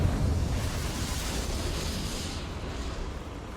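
A Confringo blasting spell in Hogwarts Legacy goes off as a deep, rumbling blast that fades over a few seconds, loud and close with no talk.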